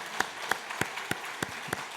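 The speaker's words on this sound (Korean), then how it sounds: "우리 함께 격려하면서 축복의 박수 부탁합니다." A few church members clap slowly in unison for the children, about seven distinct, evenly spaced claps sounding sparse and near over quiet room noise.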